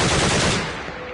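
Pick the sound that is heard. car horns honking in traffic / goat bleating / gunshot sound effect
gunshot sound effect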